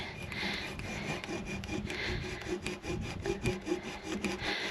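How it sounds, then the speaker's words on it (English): A hand saw rounds off the end of a wooden board during a DIY tiny house build, with rhythmic back-and-forth rasping strokes that come close and fairly steady and carry on without pause. "the idea of this cut is just to round off the end so it's not so blocky"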